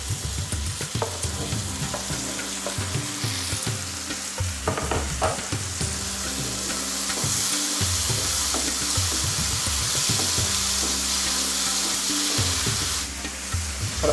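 Masala with peas and tomatoes sizzles and fries in a pan for baingan bharta, a steady close hiss broken by the scrape and clatter of stirring.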